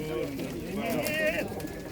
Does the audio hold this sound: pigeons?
yes